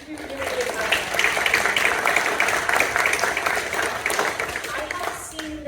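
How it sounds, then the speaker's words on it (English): An audience at a theatre summer camp performance applauds the children, a continuous wash of clapping that builds quickly, holds steady, then tapers, with some crowd voices mixed in. "give them a round of applause"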